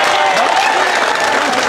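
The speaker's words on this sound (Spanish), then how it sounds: "Aplauso para Ramón" Loud, continuous applause from a church audience cheering for a man named Ramón, many hands clapping at once with crowd murmur mixed in.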